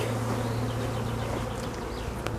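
Honeybees buzz at a hive during a rebellious swarm, a dense, steady drone held close and loud from start to finish with no talking.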